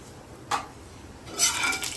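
Cardamom and cumin seeds are stirred in hot oil and ghee, two short bursts of sizzling and utensil scraping against a pan over a quiet background.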